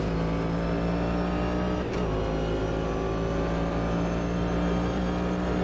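GTE race cars, including a Porsche RSR, roar continuously in a racing video game, a dense, loud engine drone with a brief whoosh as one passes close.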